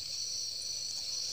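A steady, thin high-pitched buzz of stingless bees drones continuously with no pauses, humming close by.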